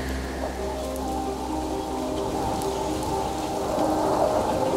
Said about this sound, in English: I'm gonna make it rain